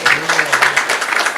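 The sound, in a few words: audience applause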